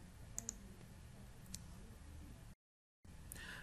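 Two crisp, close mouse clicks on the Save button in TRACE 700 HVAC software, then a fainter single click, over a quiet low hum before a short silent gap.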